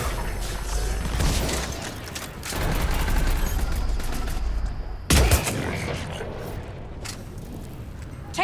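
Gunfire in the Mass Effect 3 Legendary Edition video game during a battle on Thessia: sustained rapid bursts and a sharp loud blast partway through, with shouted voices mixed in.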